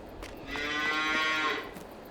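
Cattle mooing in Farming Simulator 22, a single long, loud, harmonic-rich moo that swells and holds for about a second, with a fainter lowing around it and no talking.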